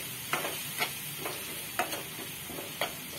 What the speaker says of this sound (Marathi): मिरची घातलेली आहे शांता मावशींनी आणि ती चांगली परतून घेतात त्या।